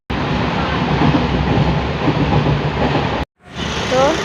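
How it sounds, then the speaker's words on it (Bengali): A moving train rumbles loudly and continuously from on board, with a broad rushing roar and faint rhythmic clatter, briefly interrupted near the end. "ট্রেন ছেড়ে দিয়েছে।"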